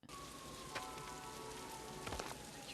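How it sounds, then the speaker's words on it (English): Rain in the 1995 film Se7en, a steady dense hiss of falling rain on hard surfaces, close and continuous, with a faint tonal hum and a few louder splashes or knocks. "Raining again, holy hell."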